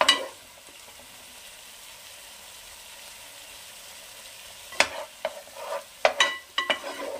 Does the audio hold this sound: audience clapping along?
no